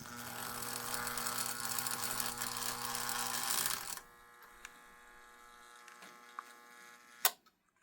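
A Marx toy train locomotive running laps on track at higher current gives a steady, dense mechanical whir for about four seconds, then cuts out, leaving a few faint clicks and one sharp snap near the end.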